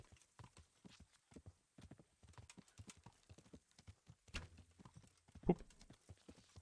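Horse hooves clip-clopping while riding in Kingdom Come video game, a quick uneven run of soft hoof strikes at a trot, fairly faint and close, with one louder thump near the end.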